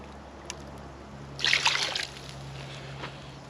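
Plain water pours into soup in a pot outdoors, a short gurgling splash lasting about half a second amid quiet surroundings, faint and close.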